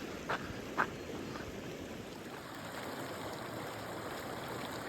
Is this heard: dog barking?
no